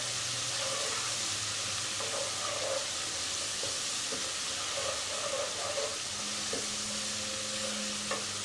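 Garlic paste fries in a pan over a medium flame, a soft, steady sizzle broken by repeated scraping stir strokes up close, with no talking.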